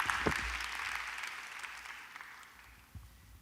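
A church congregation at a Korean church gathering in Fullerton, California applauds to welcome a guest pastor, a steady wash of many hands clapping in a reverberant hall that gradually thins and fades.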